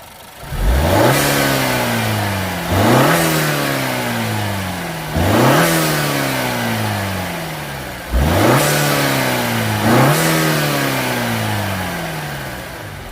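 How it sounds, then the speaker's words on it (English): A 2018 Honda Accord 2.0-litre turbo engine fitted with a K&N drop-in air filter revs five times in a steady rhythm, each loud rise in pitch dropping back to a rough idle between bursts. "So let me do a few revs."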